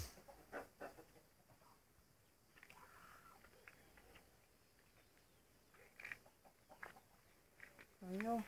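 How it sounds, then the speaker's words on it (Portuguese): Chickens in a henhouse cluck faintly and intermittently amid rustling and handling noise, with a louder squawk near the end and a person's voice briefly audible. "Fechando as galinhas aqui que já tá."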